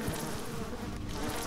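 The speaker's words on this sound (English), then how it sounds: "The bees!" A swarm of bees buzzing in the video game BioShock, a dense, loud, continuous droning hum with no talk over it.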